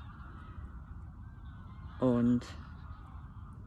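Geese honking in a short loud burst, sounding like a large flock out of sight along the far bank of a lakeshore, rising briefly over steady low background rumble.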